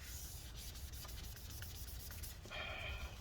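A cloth wipes residue off a part of a 13-inch Early 2015 Retina MacBook Pro A1502, giving faint, close, continuous rubbing strokes with a slightly brighter swipe near the end.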